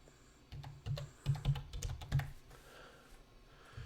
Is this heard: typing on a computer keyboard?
yes